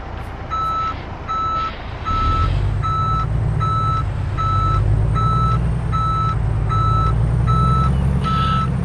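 A Peterbilt 389 truck in American Truck Simulator gives off steady, evenly spaced reversing beeps, about ten in a row, over a loud low engine drone that swells after the first couple of seconds.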